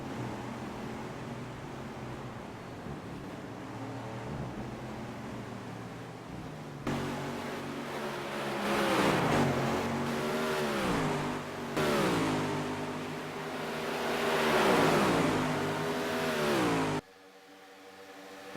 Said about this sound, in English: As these cars roar their way now down the straight